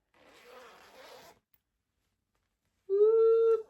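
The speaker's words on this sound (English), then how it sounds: "First time ever putting a zipper on a knitted object." A zipper sewn by hand onto a knitted piece is pulled in a quick rasping run that stops, and after a pause a sustained tonal sound follows.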